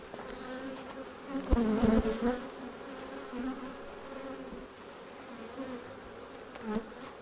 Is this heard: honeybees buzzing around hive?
yes